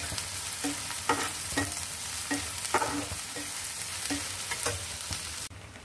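Onion frying in a pan for a Bengali puti fish chorchori, a steady close sizzle broken by repeated stirring scrapes at a regular rhythm.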